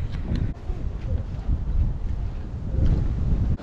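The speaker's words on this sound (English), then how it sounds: "but it's a bit windy." Strong gusty wind buffets the microphone on a hike at Stanage in the Peak District, England, a low roaring rumble that swells and dips continuously with no voices.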